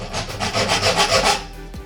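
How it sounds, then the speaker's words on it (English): A hacksaw scrapes a marking cut in quick back-and-forth strokes, about eight rasping passes close by and alone, then stops abruptly. "I'm going to use this hacksaw to mark it."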